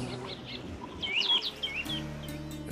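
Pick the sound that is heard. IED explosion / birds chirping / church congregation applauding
birds chirping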